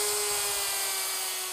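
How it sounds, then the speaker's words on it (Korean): A custom-built electric saw trims the inner edge of a billiard table top in a factory, giving a steady high-pitched whine with a constant tone, continuous and fairly close. "자체 제작한 당구대 상판용 전기톱이라고 하는데요"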